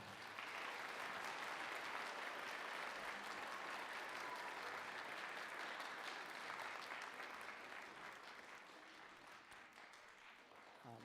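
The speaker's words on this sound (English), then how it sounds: "Give them a nice round of applause for that." Sustained audience applause at a high school spring concert after a band performance, a dense wash of clapping that stays loud throughout and eases slightly toward the end, with some crowd noise mixed in.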